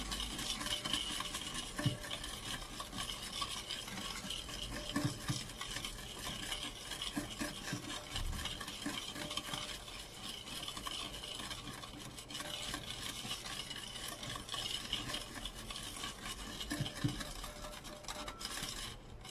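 Dalgona coffee mixture being whipped by hand in a bowl, with steady, continuous scraping and clinking strokes that keep a fast rhythm throughout at close range.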